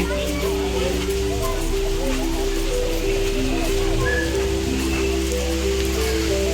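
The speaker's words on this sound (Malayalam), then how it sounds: "മഴ കുറയില്ലടി" Steady rain pours down on surfaces nearby at Malampuzha Dam in Kerala, a dense continuous patter, with a low droning hum running underneath throughout.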